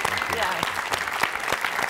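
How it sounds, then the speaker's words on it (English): Applause from a studio audience during a talk show interview, dense steady clapping with a few sharper claps throughout, while someone briefly speaks over it. "let's give it a applause for that"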